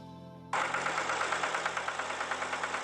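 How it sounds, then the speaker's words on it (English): A tractor engine catches suddenly and settles into a loud, steady chugging idle with an even, knocking rhythm. "T is for tractor."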